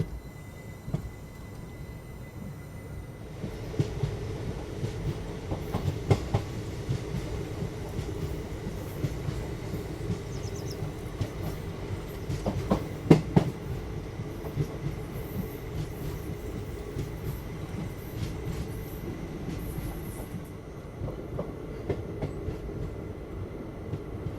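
Agra Ahmedabad special train running at speed, heard from inside as a continuous low rumble of wheels on track with scattered clanks and rattles, fairly quiet and steady.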